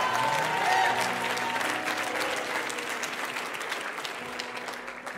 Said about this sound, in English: should give yourself a round of applause for that.